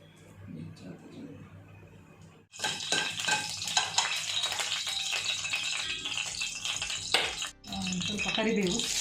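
Fenugreek seeds and curry leaves hit hot coconut oil in a pan for Mangalore-style chicken liver and gizzard sukka, bursting into a loud, steady crackling sizzle and rattle after a quieter start with speech.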